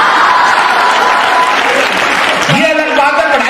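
Audience applause and cheering fill a Hindi comedy poetry gathering, a dense, loud, steady clapping that runs throughout, with a voice cutting in near the end.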